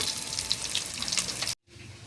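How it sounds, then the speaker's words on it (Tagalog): Fish sizzles and spatters steadily in hot oil in a home kitchen during Filipino cooking, a soft close hiss that cuts off abruptly near the end. "Ayan ang ating prito."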